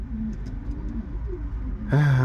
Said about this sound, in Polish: to są moje najwybitniejsze gołębie